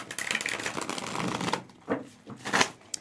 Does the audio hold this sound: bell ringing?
no